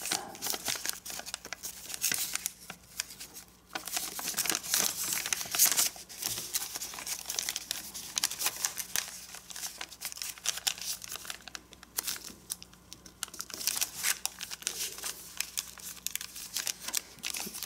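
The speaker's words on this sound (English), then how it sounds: "So let's fold this flap down and back up, and lift this flap up, and petal fold it." Origami paper being folded into a petal fold crinkles and rustles up close in a run of soft crackling bursts and creases, with brief pauses between handlings.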